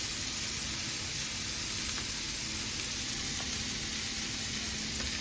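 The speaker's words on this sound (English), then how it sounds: "now I'm gonna put some butter in to give a flavor of" Unsalted butter melting in a hot pan gives a steady, even sizzle, a soft continuous hiss that runs unbroken and alone at moderate loudness.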